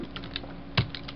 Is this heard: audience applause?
no